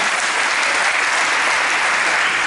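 Steady, dense applause from a crowd fills the whole stretch, loud and even without pause.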